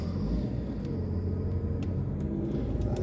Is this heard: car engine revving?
yes